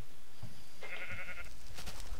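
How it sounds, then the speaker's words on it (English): A Minecraft sheep gives a short, nasal bleat in the middle of a busy game soundscape, close and moderately loud. "Now the naked sheep can get inside my house."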